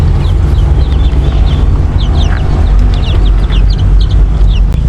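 A backyard mother hen clucks among chicks chirping in short, scattered calls over a loud, rumbling background, with no talking.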